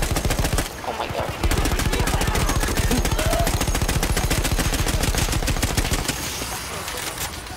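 Relentless close automatic gunfire in the Battlefield 1 campaign, a dense even stream of shots lasting several seconds before a brief break and a short final burst.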